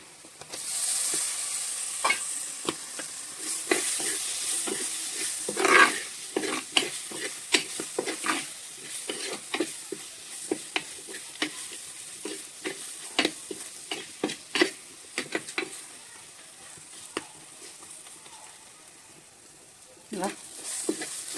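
Chopped tomato sautés in a pan for a dry mushroom roast, giving a steady sizzle broken by frequent scraping stirs and clinks of the spatula throughout.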